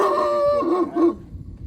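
A dog gives one loud, drawn-out howl that wavers in pitch and fades after about a second.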